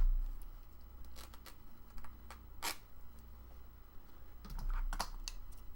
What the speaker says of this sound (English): We could take a tiny piece and just tear off a little section.